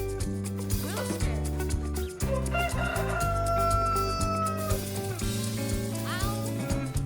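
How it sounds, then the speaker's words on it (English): A rooster crows a cock-a-doodle-doo in a children's animal-sounds nursery rhyme, the call standing out clearly above a cheerful music backing. "rooster"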